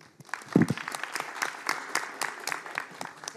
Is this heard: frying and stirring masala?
no